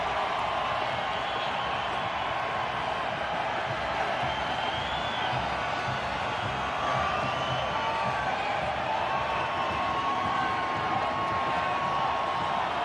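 Stadium crowd at a Houston MLS Cup playoff soccer match between the Houston Dynamo and Sporting KC, a steady dense roar of cheering and whoops throughout with a commentator voice faintly underneath.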